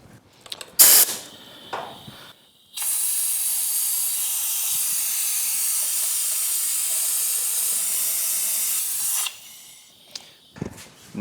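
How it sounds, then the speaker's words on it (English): A Mighty Vac brake bleeder hand pump draws old coolant out of a Yamaha YFZ450R engine, giving a steady hissing suction of about six seconds between a few short clicks and knocks, close and fairly loud. "I'm going to use this brake bleed Mighty Vac, pull out the fluid that was in there"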